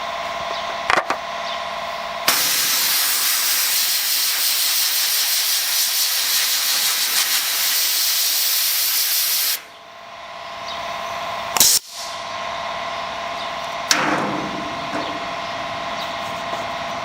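A rebuilt Speed Blaster sandblaster runs with a loud, steady rush of compressed air and sand for several seconds, then cuts off, followed by short bursts and hissing puffs.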